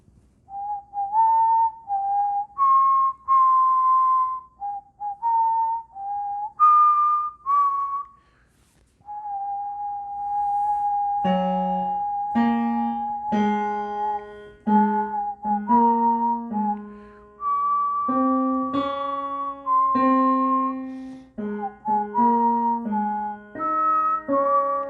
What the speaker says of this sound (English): So far, these are the keys that I was whistling.